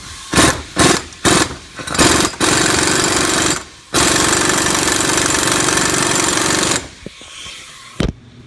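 Impact wrench hammering on a 2001 Ford 5.4 power steering pump pulley, first in several short loud bursts, then in long sustained rattling runs, close and harsh.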